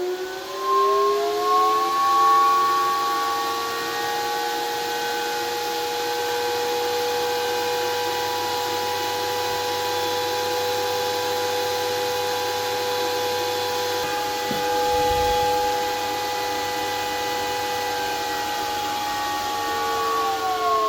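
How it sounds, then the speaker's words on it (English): Cryptocurrency mining rig fans, part of a Dogecoin merge-mining setup, giving a loud sustained high-pitched whine with several steady tones over a constant airy rush, with a faint brief knock partway through. "high-pitched whine that is so loud"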